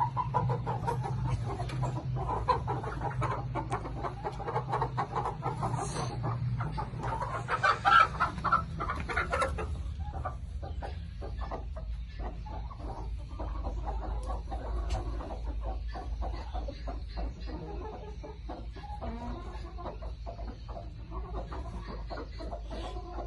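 Hens and chickens clucking in a farm enclosure, a steady chorus of soft clucks with occasional louder calls over a low background hum.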